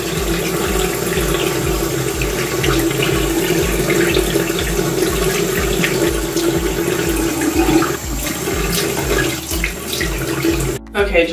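Tap water running into a bathroom sink during face washing, a loud, close, continuous splashing rush that stops abruptly near the end.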